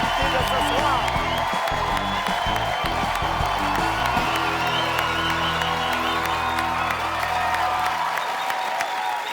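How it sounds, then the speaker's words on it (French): A French television studio audience claps and cheers for four evening guests, a broad wash of applause layered with loud music. "On les applaudit, on les encourage."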